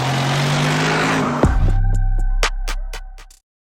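A Mercedes-Benz SLR McLaren with a thunderous old-school exhaust roars steadily, then cuts off abruptly into a series of sharp pops and a lower idling drone before falling silent.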